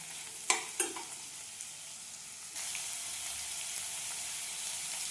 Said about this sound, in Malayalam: ഇത് നന്നായിട്ട് വഴറ്റി കൊടുക്കാം.